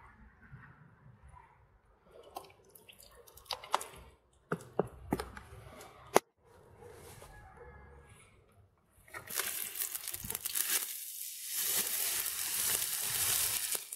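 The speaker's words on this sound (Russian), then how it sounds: "Масло нагреется моментально и сразу высыпаю весь лук." Chopped onions tipped into hot vegetable oil in a kazan over an outdoor fire: scattered clatters and knocks come first, then a loud, steady sizzle bursts up and keeps going near the end, with no talk.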